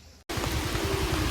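Rain falls steadily on an off-road route at Attapadi near the Jellipara viewpoint, a dense close hiss of drops after a brief quiet moment at the start.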